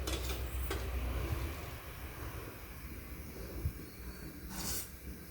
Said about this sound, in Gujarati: રાઈનો વઘાર કર્યો છે